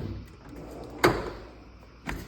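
Drawer of a new Snap-on tool chest in a garage sliding open or shut, holding extension bars: a sharp metallic clack near the start, then a second softer thud about a second later, close by with no talk.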